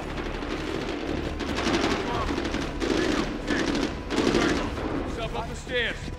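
Gunfire in Medal of Honor Warfighter: sustained rapid automatic bursts and scattered shots roll on throughout, loud and dense, with faint voices under the battle.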